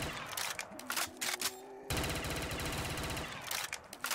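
AK rifle with the Double Tap perk firing in Black Ops 3 Zombies, a rapid, dense automatic burst that stutters early, then runs continuously for about two seconds, loud and close with no talk over it.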